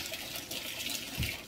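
Tap water running over a dough whisk being rinsed in a home kitchen, a soft steady splashing gush with a small clunk near the end, no one speaking.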